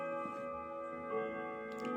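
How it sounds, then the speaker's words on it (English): Chimes ring faintly in the evening at about half past seven, with sustained overlapping tones that hang steadily in the background. "Pastor Yates, I hear the chimes"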